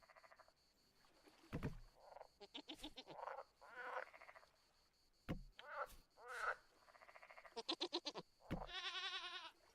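Goats bleating in the survival video game Vintage Story, a series of short, loud wavering bleats repeating at irregular intervals, close by, with no talk over them.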